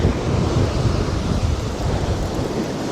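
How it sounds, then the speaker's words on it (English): Strong wind gusting over a Scottish sea-fishing beach, a dense, loud rumbling roar with buffeting microphone noise and a wash of surf underneath, steady for the whole stretch. "I feel some wind now. The wind's gotten up again."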